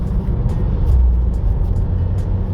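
Steady low road rumble and engine drone from a 2017 Subaru Legacy Limited 2.5 with automatic transmission cruising on the road, with a faint swell near the one-second mark and no talk.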